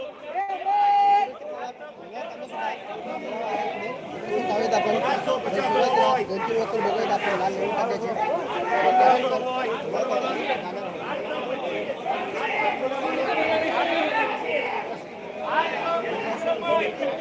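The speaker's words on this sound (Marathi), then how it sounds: "आज आवक थोडी जास्त आहे आणि गर्दी आहे गोंधळ आहे" Crowd chatter at a busy Solapur onion market auction, dense overlapping voices and hubbub continuing steadily at close range.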